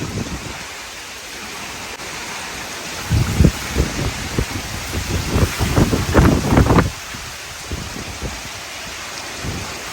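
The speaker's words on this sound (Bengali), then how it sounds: "এক এক সময় এত জোরে হাওয়া হচ্ছে" Strong storm wind whips through banana trees, building into loud roaring gusts with rain noise for several seconds before easing back to a steadier wash, with no speech.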